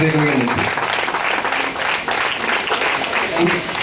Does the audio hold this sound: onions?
no